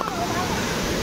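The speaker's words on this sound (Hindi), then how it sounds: "वाटरफॉल माने झरणा" Steady broadband rush of a waterfall cascading into a stream along a rough forest trail, close and continuous with no pauses.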